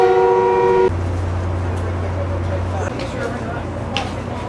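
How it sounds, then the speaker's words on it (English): A train horn sounds in a long steady blast, followed by the rumble of a passing commuter train to Salt Lake City with clattering wheels nearby. "we're gonna get this commuter train"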